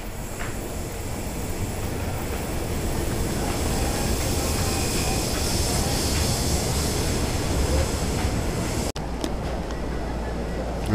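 A KRL commuter train rumbles steadily close by at Juanda station in Jakarta, a constant broadband roar of wheels and machinery that cuts off abruptly near the end.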